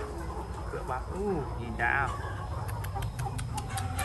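Bình Định hens and roosters cluck and call in a small mixed flock, with a few short rising calls standing out over steady background noise while someone talks close by.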